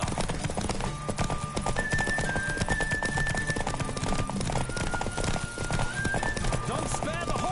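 Hooves clip-clop in a fast, steady gallop during a horse race in The Witcher 3: Wild Hunt on PS5, with occasional whinnies, music and a voice talking over the running horse throughout.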